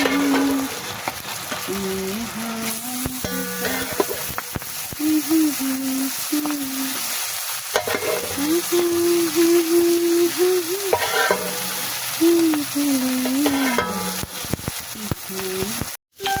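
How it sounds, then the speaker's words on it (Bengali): Tengra fish frying in hot oil, a continuous close sizzle running under a melodic musical line that carries on over it. "তেল গরম হয়ে গেছে, মাছগুলো ভাজতে দিয়ে দেব।"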